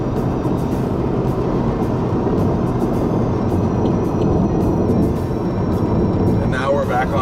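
A car accelerates at full throttle on a highway to pass a truck on a road trip to Yakima, Washington, giving a steady loud engine and road roar with wind noise throughout.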